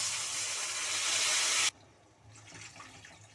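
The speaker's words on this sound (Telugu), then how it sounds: "పసుపు వేసుకొని ఇప్పుడు వాటర్ పోసుకోవాలి." Water pours into a pan of onion, tomato and turmeric with a loud, steady hiss. It stops abruptly partway through, leaving a faint, quiet simmer afterward.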